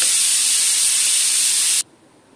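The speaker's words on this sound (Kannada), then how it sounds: "ಕುಕ್ಕರ್ ಕೂಗ್ತಾ ಇದೆ" A pressure cooker in a home kitchen vents steam in a loud, continuous hiss that holds steady for about two seconds before cutting off abruptly into quiet.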